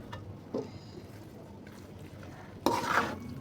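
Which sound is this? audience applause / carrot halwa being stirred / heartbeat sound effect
carrot halwa being stirred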